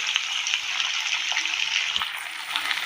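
Onion, a bay leaf and a dried chili fry in hot oil with a steady, dense sizzle and crackle, fairly close and continuous, with no voices over it.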